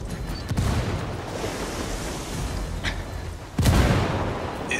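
Frag grenade blasts in Ghost Recon Wildlands: two heavy booms, one early and a louder one near the end, each followed by rumbling debris noise over a noisy battlefield backdrop.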